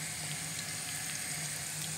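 Water runs steadily from a tap into a cooking pot, filling it to cover a zampone (stuffed pork trotter) for a Christmas lunch; a continuous, even rushing and splashing with no talk.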